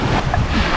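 Atlantic Canada beach with surf breaking on shallow water thick with seaweed, a loud close rushing wash of waves mixed with buffeting wind on the microphone.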